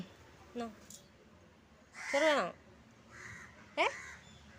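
A crow caws three times, harsh and fairly close, with pauses between each call over a quiet outdoor background.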